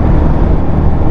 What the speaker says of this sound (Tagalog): Sobrang lakas pa ng hangin din.